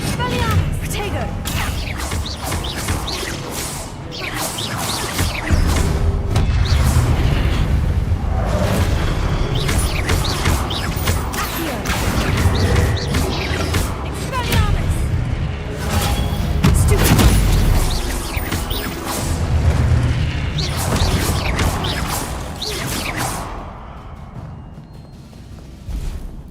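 Spell combat in the video game Hogwarts Legacy: a dense, loud barrage of magical booms, crashes and hard impacts that rolls on almost without pause, then thins and fades toward the end.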